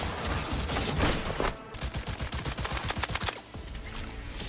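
SMG fire in Cyberpunk 2077, a long rapid rattle of automatic shots in quick regular succession, loud and close, after a dense burst of combat noise, with no talking.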